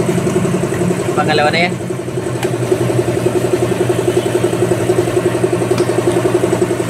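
Suzuki motorcycle idling close to its exhaust, a steady mid-pitched engine rumble running throughout while a person speaks briefly over it.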